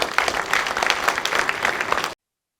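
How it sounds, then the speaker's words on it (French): Crowd applause at the Boulogne Horror Show film festival, a lively burst of clapping that stays full and even for about two seconds before cutting off abruptly to silence. "on peut tous les applaudir,"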